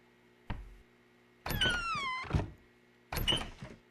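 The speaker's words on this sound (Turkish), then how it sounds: "O nasıl bir kapı açma sesidir ya." A video game door opening, a short thud followed by a creaky mechanical sweep and a second clunk, sitting mostly alone against a quiet background hum.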